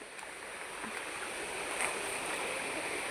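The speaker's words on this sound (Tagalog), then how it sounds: "Ah, laki-laki ng sapa." A large rural stream flows steadily on a farm, a broad continuous hiss of rushing water, fairly even and unbroken throughout, with no talk.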